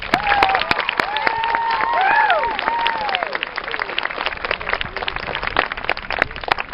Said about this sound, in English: Please give them a final round of applause.